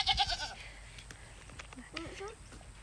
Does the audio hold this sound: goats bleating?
yes